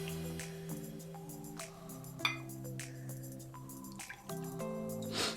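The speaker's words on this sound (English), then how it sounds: "We're gonna pour 3/4 of an ounce of our black rum." Black rum is poured into a Mai Tai cocktail: soft trickling and dripping with small glassy clinks and squishy splashes, fairly quiet, over a steady tonal background hum.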